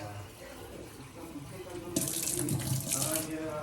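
Water runs from a tap into a lota in a steady, rushing stream that turns louder and brighter about halfway through, with faint household noise underneath.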